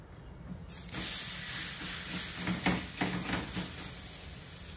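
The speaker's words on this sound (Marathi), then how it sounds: "मी तव्यावर टाकणार आहे" Thalipeeth placed on a hot tawa, giving a sudden close hiss that settles into a steady sizzle and steam, with faint crackles on top.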